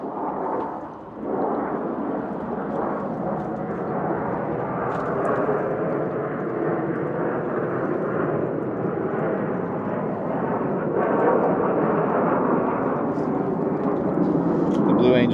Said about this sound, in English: Here's some Blue Angels.